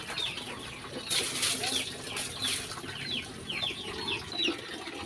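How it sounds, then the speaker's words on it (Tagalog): Newly bought chicks peep in quick high bursts at close range, with wing flutters and a running-water hiss in the background. "Ito na, yung mga bagong sisiw na nabili natin."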